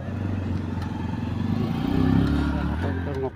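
A motorcycle engine idles and revs steadily at close range while being loaded onto a ferry at Khabalighat on the Lakhimpur–Majuli crossing, with people talking over it and occasional clatter.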